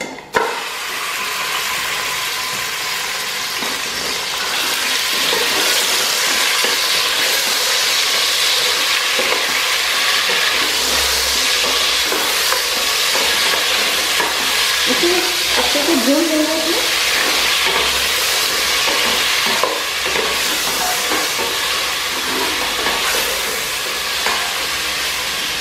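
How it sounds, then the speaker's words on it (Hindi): Half a kilo of mutton sizzles and fries in a pot of cooked-down onions and spices for aloo gosht, a loud, steady crackling hiss with occasional stirring scrapes running throughout. "अब इसमें मैं मटन ऐड कर रही हूँ।"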